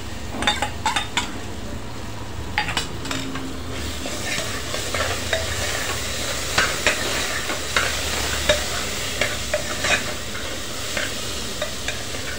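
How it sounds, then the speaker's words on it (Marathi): Drumstick and potato curry masala with ground paste, Kashmiri red chilli and coriander powder sautéing in a pan, a steady close sizzle broken by repeated scrapes and clinks of a spoon stirring against the metal. "छान परतून घेणार आहोत 1-5 मिनिटं"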